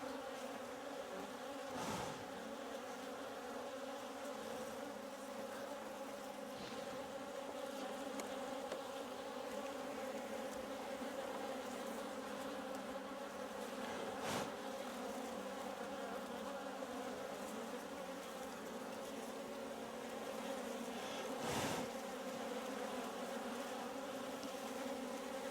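Honey bees buzz steadily in an opened hive, a dense, continuous hum close by with a few louder passes as individual bees fly near, and no talking.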